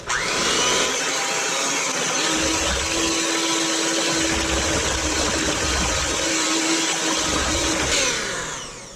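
An electric hand mixer runs steadily for about eight seconds, beating eggs one at a time into creamed butter and sugar for oatmeal raisin cookie dough, a loud continuous whir with a sustained motor hum that cuts off near the end.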